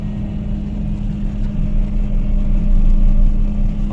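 A John Deere 9750 STS combine harvester rolls along a highway with a steady, loud low engine rumble that holds constant throughout, no voices.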